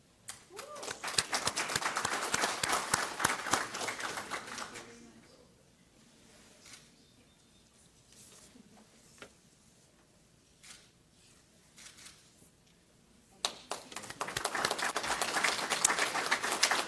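At a fall 2022 graduate commencement and hooding ceremony, an audience breaks into loud applause, then falls quiet while a voice speaks faintly, and the clapping returns at full strength near the end.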